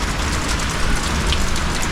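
Steady, dense rain drums on zinc roofing at a homestead, a continuous loud hiss and patter with no break and no voices.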